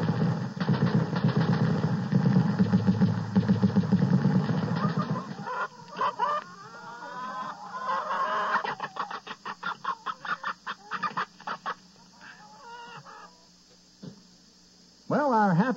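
Barnyard chickens cluck and squawk as a radio sound effect in a 1978 turkey shoot contest segment, first a busy flurry, then bursts of rapid machine-gun fire with sparse clucks between.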